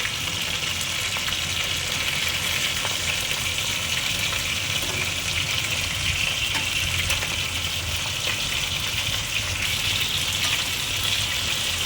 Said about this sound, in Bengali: মাছটা ফ্রাই হচ্ছে, একদিকটা ফ্রাই হোক, ফ্রাই হলে নেক্সট দিকটা আমি উল্টিয়ে দেবো।